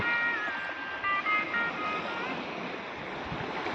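Ocean surf washes continuously along an island shore, a broad steady roar with wind noise and a few faint high whistling tones over it.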